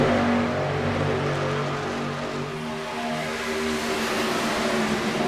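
Racing truck engines in a video game race at Las Vegas, a dense, continuous buzzing drone of several engines held at high revs door to door, steady and loud throughout without audible talk.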